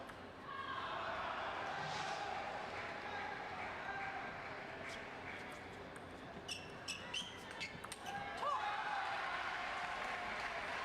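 Crowd at a Paralympic women's singles class 10 table tennis match in Rio cheers and applauds steadily, a broad sustained roar with a few sharp claps and knocks near the end.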